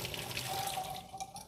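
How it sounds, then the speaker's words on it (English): Noodle cooking water poured into a kitchen sink, a brief rushing splash and gurgle that runs about a second and a half, close by and fairly loud, trailing into drips. "And then I kind of take this over to the sink and pour it"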